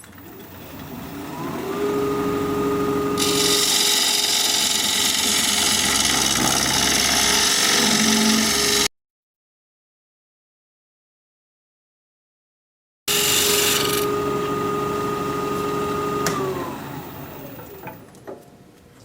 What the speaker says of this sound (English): Now turning at 1400 RPM.